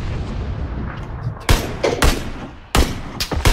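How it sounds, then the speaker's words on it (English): A grenade blast in PlayerUnknown's Battlegrounds, a series of loud, sharp explosive booms and bursts of gunfire-like cracks over a low rumbling bed, with no talking. "Throwing grenade."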